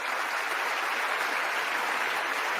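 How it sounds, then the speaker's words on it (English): Applause filling the House chamber, a thick, continuous wash of many people clapping at once, loud and even from start to finish. "Stand clap, stand clap."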